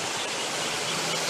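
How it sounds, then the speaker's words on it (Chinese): A small waterfall in a Chinese-style garden gives a steady, even rush of falling water, close and continuous, with no voices. "哎，这有个小流瀑哦"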